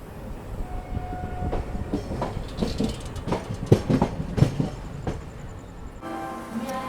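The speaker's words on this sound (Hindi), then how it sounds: "दोस्तों देखो गाड़ी अपनी एंट्री ले रही है संगम नगरी प्रयागराज।" A passenger train pulls into Prayagraj Junction, its wheels clattering over rail joints in irregular clicks and thumps. It builds to a louder rumble as the coaches roll through, close by.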